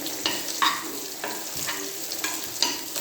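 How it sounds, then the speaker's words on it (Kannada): Half-boiled potato pieces fry in a little oil, a steady sizzle broken by several sharp scraping stirs spaced through the stretch, close and fairly loud, with no voices. "ಆಲೂನ ಹಾಫ್ ಬಾಯ್ಲ್ ಮಾಡಿಕೊಂಡು ಸ್ವಲ್ಪ ಸಣ್ಣಗೆ ಪೀಸಿಗೆ ಕಟ್ ಮಾಡಿಕೊಂಡು ಹೀಗೆ ಸ್ವಲ್ಪ ಎಣ್ಣೆಲಿ ಫ್ರೈ ಮಾಡ್ಕೊಳ್ಳಿ."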